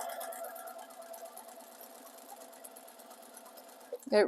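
Sewing machine stitching slowly through a raw-edge appliqué baby quilt with batting: a soft, fast, even mechanical chatter running steadily at close range, ending in a short bump.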